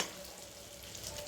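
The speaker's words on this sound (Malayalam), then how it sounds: "ഇതിപ്പോൾ തിളച്ച് വരുന്നുണ്ട്" A pot of milky cassava mixture bubbling at a steady boil, a continuous soft hiss and crackle, close and even, with no voices.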